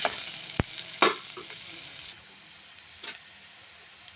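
Chopped onion sautéing in a pan until browned, a soft sizzle punctuated by a few sharp spoon taps and scrapes, fading quieter toward the end.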